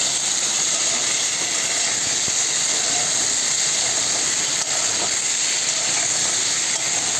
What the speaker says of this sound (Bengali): আলুগুলা দিলাম। আলু দিয়ে নাড়াচাড়া করতে হবে।